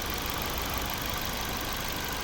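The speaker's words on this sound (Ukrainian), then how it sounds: "Ось робота двигуна, настільки рівно і тихо працює." A 2010 Volvo V50 with a 1.6 petrol 16-valve engine of 100 horsepower idles smoothly and steadily, a constant close hum with no other sounds.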